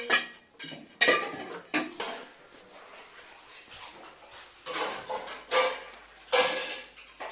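Dishes clatter and clink in bursts as pots and utensils are scrubbed and set down, with short pauses between the clanking, fairly close.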